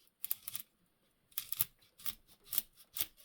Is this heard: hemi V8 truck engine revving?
no